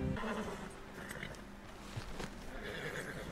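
A horse in the video game Red Dead Redemption 2 lets out a loud, close whinny that carries through the short clip over a steady outdoor background, with no talking.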